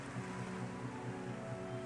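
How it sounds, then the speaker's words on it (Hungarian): Sea waves roar and surge inside a rocky seaside cave, a steady full wash of surf with a soft rhythmic pulse, close and continuous with no voices. "Hallgass a tenger zúgását."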